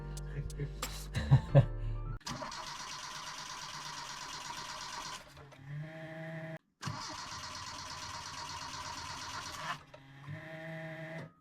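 A car engine is cranked and catches, then runs at a steady idle. It briefly cuts out and restarts, close by, with voices at the start.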